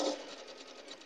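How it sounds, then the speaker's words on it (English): Brief, quiet burst of a sewing machine stitching fabric for a log cabin quilt, running over pins, with a soft continuous whir. "I sew over my pins."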